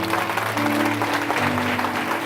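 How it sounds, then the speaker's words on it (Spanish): A church congregation claps together during a Spanish-language sermon, a loud, dense burst of applause with a low hum or music beneath it that runs through the short stretch. "¿Cuántos le dan un aplauso a Dios por eso?"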